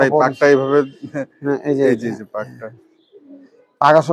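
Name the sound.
pigeon cooing, Khaki pigeon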